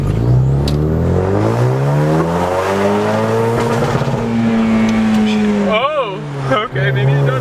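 A Ford Mustang engine revs hard and loud, its pitch sweeping up and down in long rising and falling surges, with a sharp burst near the end and voices talking over it.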